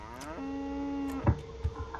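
A cow moos in the video game Goat Simulator, in its Waste of Space DLC. It is one long, clear, low moo, followed by a few short thuds and clatters.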